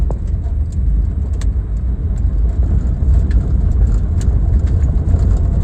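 A 1959 Edsel Ranger driving and shifting into second gear, its engine a loud, steady low rumble heard from inside the car, with faint rattles and clicks over the top and no talking.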